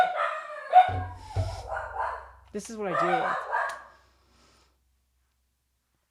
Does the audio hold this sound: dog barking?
yes